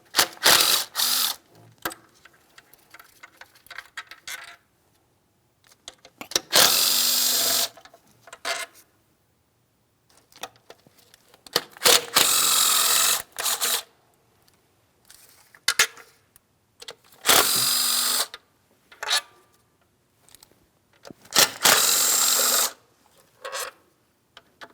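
Upper intake manifold bolts come out of a 2007-2014 Ford Edge 3.5L V6 with a ratchet, heard as bursts of rapid, close clicking that start and stop repeatedly with short quiet gaps between them.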